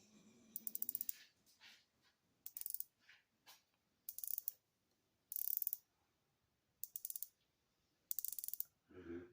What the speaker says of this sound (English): We're going to give that bezel a twist.